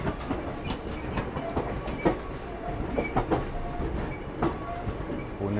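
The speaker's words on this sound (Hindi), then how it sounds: "पुणे दानापुर डिपार्चर हो चुका है साथ में हम लोग के" A passenger train runs on rails with a steady clickety-clack of wheels over rail joints, heard from on board a blue ICF 3AC coach of the Danapur–Secunderabad special express, with repeated sharp clacks over a constant rumble.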